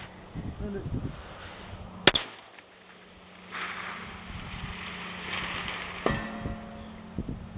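A large-bore precision rifle fitted with a Mirage suppressor fires once outdoors: a single sharp, loud report about two seconds in, set against quiet wind and faint background sounds.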